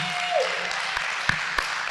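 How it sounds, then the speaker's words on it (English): Audience applause for a guest at the close of a recovery-themed show segment, a steady wash of clapping with a few sharper claps standing out, moderately loud and continuous. "Give Crystal a nice round of applause."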